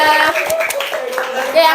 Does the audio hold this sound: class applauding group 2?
yes